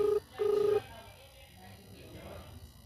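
Telephone ringback tone on an outgoing call to a boyfriend's phone, two long ring bursts in quick succession, then muffled background voices and room noise.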